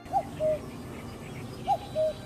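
A cuckoo gives its two-note call twice, a higher note dropping to a lower one in each pair, clear and moderately near over a steady outdoor background hiss.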